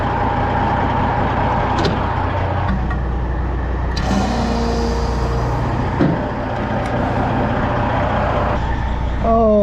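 A farm truck's engine drones steadily at close range while driving, with a low continuous rumble, a brief hiss partway through and a few faint clicks and rattles.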